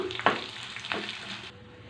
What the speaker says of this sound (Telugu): తాలింపు వేసుకున్నామండి